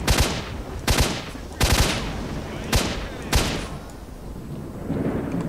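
Heavy gunshots boom in the S.T.A.L.K.E.R. Shadow of Chernobyl zone as a sniper and others fire, five or six loud cracks in an uneven rhythm with echoing tails between them.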